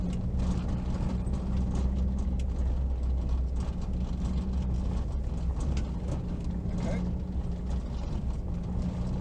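A Suzuki Swift Group N rally car on a rally school track gives a loud, steady engine drone heard from inside the cabin, with mechanical rattles and road rumble throughout.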